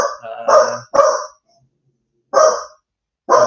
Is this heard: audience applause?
no